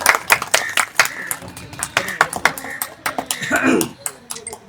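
Audience at a Nepal Mandal Literature Culture Trust annual general meeting and poetry recitation claps in scattered, uneven bursts, moderately close, with some voices in between.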